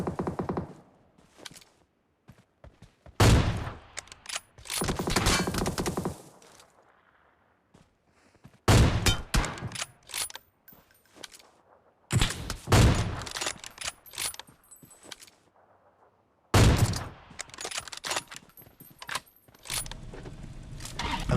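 Bursts of gunfire in the battle royale game BGMI, several loud clusters of rapid shots separated by short quiet gaps, with clicking mechanical clatter between volleys and no talk.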